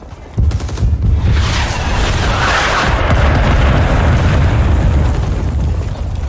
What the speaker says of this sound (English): I can experience the feeling of impending doom that comes from simulated artillery barrages